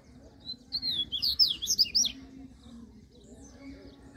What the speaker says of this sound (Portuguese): Os passarinhos daqui soltam tudo em esse canto aí, ó